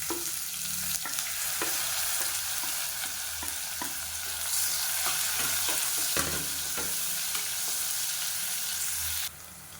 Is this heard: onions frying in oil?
yes